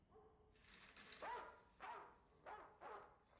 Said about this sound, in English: Dog bark?